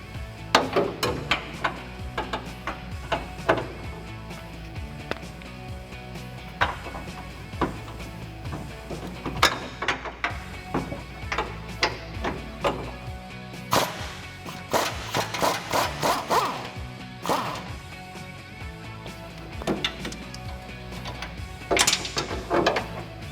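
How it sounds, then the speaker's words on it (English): An impact gun fitted with a 21mm socket removes the upper strut bolt on a 2012-2018 RAM 1500 during a lift kit install, giving repeated short, sharp hammering bursts that come in clusters, close and loud. "So I'm going to take this wrench plus my 21mm on my impact gun and remove this upper bolt"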